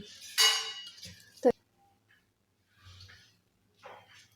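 A spoon stirs ground spices and amchur powder into a fresh pea stuffing for matar kachori, giving a few sharp clinks and light scrapes against the bowl, broken by short quiet gaps.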